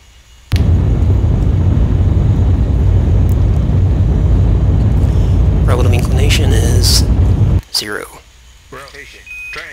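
Space Shuttle Atlantis firing its engines in the Orbiter 2010 simulator: a loud, steady roaring rumble that starts abruptly and cuts off after several seconds, followed by faint clicks and beeps, with a voice talking over it.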